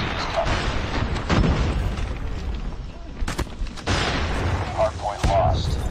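A frag grenade blast and heavy gunfire in the mobile shooter game Call of Duty Mobile during a hardpoint match, dense loud booms and rattling shots with game voice callouts mixed over the noisy battle.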